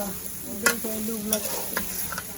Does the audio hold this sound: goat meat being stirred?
yes